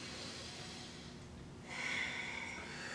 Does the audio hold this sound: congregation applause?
no